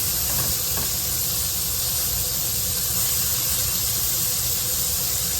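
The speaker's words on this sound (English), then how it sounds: "put in the onions and the peppers. And get this cooking" Onions and peppers sizzling in a hot pan, a loud, steady hiss and crackle that holds unbroken from start to finish with no talking.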